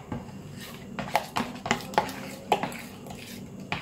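A spoon is lifted and cutlery clinks against dishes while making a lemon and pudding tart, with several short, close metallic taps and clatters spread over a few seconds.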